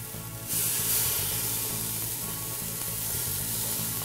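Garlic hits a hot pan and bursts into a loud, steady sizzle that continues close up, with a low pulsing hum underneath while collard greens are being cooked.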